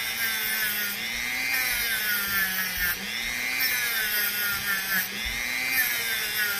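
A power tool polishes the outside of a brazed header pipe, with a continuous high-pitched whirring grind. The pitch rises and dips in repeated passes every second or so.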